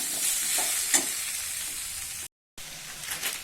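Cumin seeds sizzle and fry in hot oil, a steady close hiss with light stirring sounds, made while cooking an elephant foot yam curry with grated ginger; a brief dropout breaks it partway.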